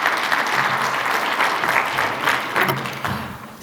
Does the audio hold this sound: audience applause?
yes